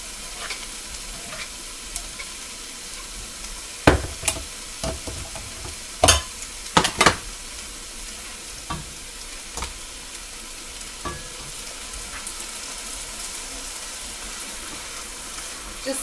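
Chilli of tomatoes and black beans stirred in a pot, a quiet steady simmering hiss broken by a few brief scraping knocks of the spoon against the pot, with no talking.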